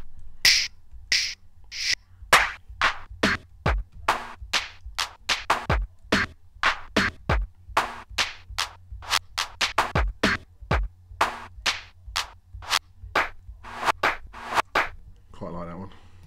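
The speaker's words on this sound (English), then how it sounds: "so I'm gonna find a clap" Dry, punchy clap samples for a 90s house and garage track, played one at a time as a long run of sharp, isolated hits with short gaps, some spaced evenly and others clustered, loud and close.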